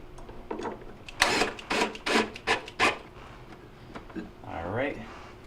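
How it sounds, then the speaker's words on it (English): A screw is driven in a burst of rasping turns to fasten the evaporator fan bracket against the plastic liner inside a Hotpoint freezer, close and fairly loud, and talking follows briefly. "we're going to be using our 1/4" screws to reattach the evaporator fan bracket to the back wall or the liner"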